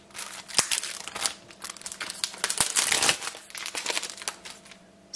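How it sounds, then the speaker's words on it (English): Plastic wrap crinkles and tears as it is peeled off a Terminator soundtrack CD case, with close, sharp crackling bursts in an irregular rhythm. "Let's just take the plastic off and have a look inside."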